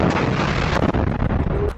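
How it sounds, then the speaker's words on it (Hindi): Explosion of a Yasin 105 anti-tank RPG striking a Merkava tank in Rafah, a dense, loud blast with rumbling bursts and sharp cracks throughout, close and continuous for under two seconds. "अल कासिम के लड़ाकों ने इस टैंक में रफा में Yasin 105 anti tank RPG fire किए जिसमें बहुत बड़ा धमाका होता है"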